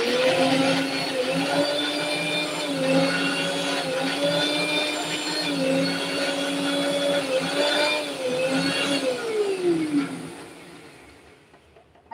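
A mixer grinder blends yogurt chutney with a loud, steady motor whine whose pitch dips and recovers several times before winding down at the end.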